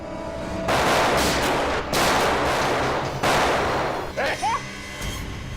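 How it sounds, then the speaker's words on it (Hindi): Gunshots in a tense crime-drama scene, three loud long bursts of gunfire separated by short gaps, followed by a brief shout and a final sharper report. "सीआईडी के ऊपर गोली चलाने का अंजाम जानती हो तुम?"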